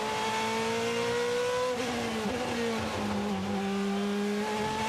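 A 2014 GP2 race car on a qualifying lap in Austria, heard onboard, screams loudly and continuously, its engine note rising and dipping through gear changes and corners.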